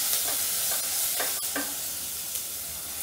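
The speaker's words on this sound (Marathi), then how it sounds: "आता टाकते मी कांदा." Onion frying in hot oil with mustard seeds for a Marathi tomato saar, a steady close sizzle with soft crackles and a few brief stirring scrapes.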